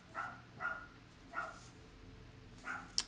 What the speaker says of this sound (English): my dog's barking, I probably have a package